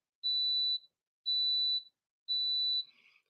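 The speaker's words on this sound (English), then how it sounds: "that's my timer telling me I should be done" A kitchen-style timer gives three evenly spaced, high-pitched electronic beeps, each about half a second long, loud and clear against silence.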